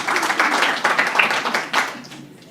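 An audience at a press club luncheon claps in a short burst of applause that is strong at first and then thins and fades toward the end, with no talking.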